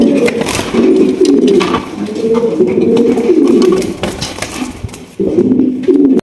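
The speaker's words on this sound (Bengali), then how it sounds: "এখানে আরো এক জোড়া গিরিবাজ কবুতর রয়েছে" Giribaz pigeons coo in a near, loud series of low, rolling calls that pause briefly and resume, with a few wing or cage rustles between them.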